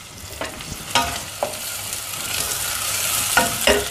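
Chopped onions and garlic sizzle in hot oil while a spoon scrapes and taps the pan several times, the frying growing louder toward the end.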